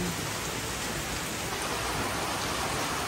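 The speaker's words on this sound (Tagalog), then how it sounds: "Grabe po, malakas na naman po ang ulan." Heavy rain pours down steadily, a dense continuous hiss with no breaks, loud and close throughout.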